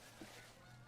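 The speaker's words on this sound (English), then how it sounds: "Shut up, geese. Many geese around here." Geese honking nearby beside a kitchen, a short nasal call standing out briefly over a steady low background hum.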